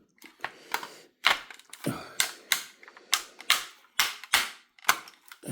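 Sharp plastic clicks and cracks of a Transformers toy's leg joints come in irregular bursts, about a dozen snaps close up, with short rustling between them.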